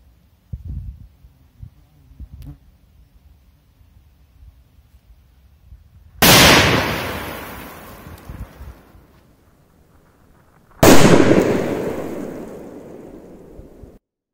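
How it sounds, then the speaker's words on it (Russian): Firecrackers exploding in sand, two loud sharp blasts several seconds apart, each trailing off in a rumbling decay, with faint handling noises before the first. "Да, пока что самый мощный взрыв на сегодня."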